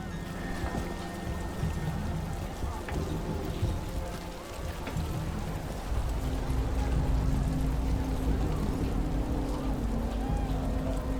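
Rain falls at night in the video game Dragon Age: The Veilguard as a dense, steady hiss that swells a little partway through, with faint tonal ambience underneath and no voices.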